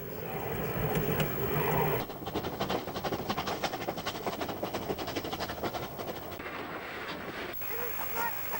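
A vintage NSW steam train from the 1960s, hauled by two 440-class locomotives, rumbles along with steady rhythmic chuffing and clatter, with a honking whistle-like tone near the start.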